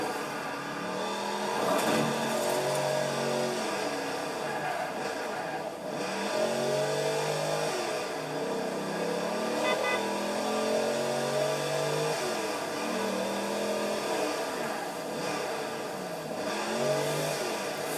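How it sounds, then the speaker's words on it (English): A 1960 Chevrolet Corvette in Forza Horizon 4 revving and accelerating repeatedly, its engine note rising and falling through gear changes over a steady mid-pitched drone. "this thing sounds really good for an old 1960 Corvette"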